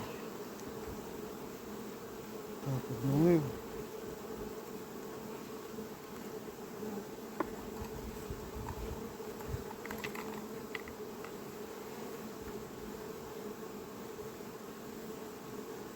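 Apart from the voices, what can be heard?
honeybees buzzing at hive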